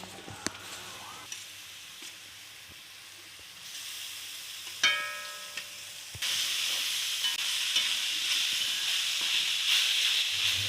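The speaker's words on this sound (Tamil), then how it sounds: "ஆட் பண்ணி நல்லா எல்லா பக்கமும் ஈவனாக படுற மாதிரி நல்லா வதக்கி விட்டுக்கோங்க." Grated radish sautés in a pan for radish paratha, giving a low hiss and sizzle with a few utensil clinks; the frying grows louder and steadier partway through.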